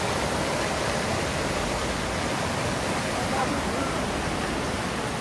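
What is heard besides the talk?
heavy rain with water running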